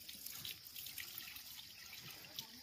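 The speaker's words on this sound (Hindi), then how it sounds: "पानी बहुत आ रहा है" Water streams steadily from a tap into containers being filled, a constant close hiss and splash running the whole time with no talking.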